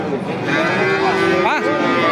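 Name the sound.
young bull mooing at livestock market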